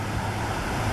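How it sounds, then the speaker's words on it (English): Water runs out of a canal lock at Hogs Back Locks as a continuous broadband rush that holds steady throughout one brief second, with no voices. "the water trickling"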